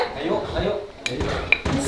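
Plates and dishes clink and knock together as they are brought out for a home-cooked village meal, with sharp metallic or ceramic taps over background talk and household noise.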